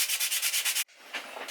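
Rhythmic sanding strokes on a handmade wooden jerkbait fishing lure, about eight steady rubbing passes close up, then a brief pause before softer, irregular sanding resumes.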